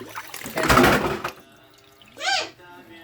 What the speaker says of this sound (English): Removing all the ginger water out of the ginger.